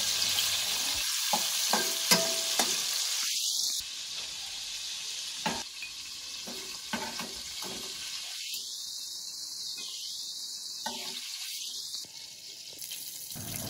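Prawns fry in hot oil in a wok for a Bengali daab chingri recipe, a steady close sizzle with occasional scrapes and stirring, plus louder spitting bursts as pieces move or are turned.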